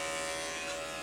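Electric pet grooming clippers fitted with a 10 blade run continuously, giving a steady, close mechanical buzz with a high-pitched hum, alone and unbroken.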